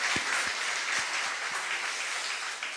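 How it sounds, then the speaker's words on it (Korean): A church congregation applauds during a worship service, a dense, steady wash of many hands clapping together that holds at an even level for the whole stretch, with no talking over it. "하나님께 영광의 박수를 올려드리겠습니다."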